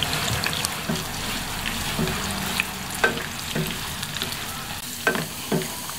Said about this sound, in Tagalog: Sunod naman natin iprito itong hotdog.